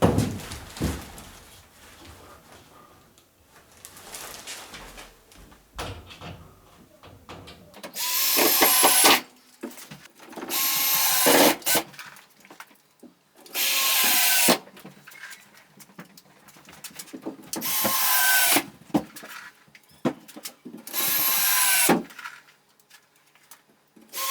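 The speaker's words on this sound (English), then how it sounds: "Then you get some screws in it." A power drill drives screws into ceiling drywall in several loud bursts of a few seconds each, separated by quieter handling sounds and pauses, close by.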